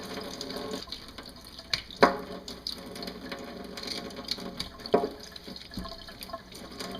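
Water runs from a tap as burdock roots are washed in a sink, a quiet steady splash broken by sharper knocks and splashes of the roots being handled, close and without talk.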